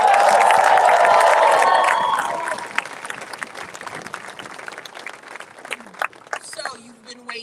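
A crowd at a political endorsement rally applauds a union organizer with loud, dense clapping that fades after about two seconds, leaving scattered claps and a speaker's voice.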